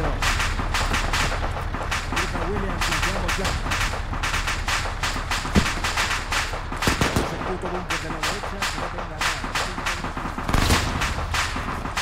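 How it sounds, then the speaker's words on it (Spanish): Rapid bursts of automatic gunfire and single shots crackle through a firefight in the Arma 3 military simulation, dense and continuous, with voices talking over the shooting. "Nos llegan disparos."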